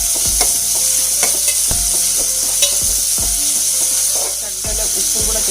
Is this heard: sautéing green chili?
yes